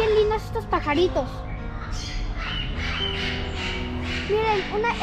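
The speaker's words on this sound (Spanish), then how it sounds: "Miren, una hermosa cacatúa." A cockatoo squawks in an aviary, letting out a run of harsh, loud calls close by, with people talking in the background between the cries.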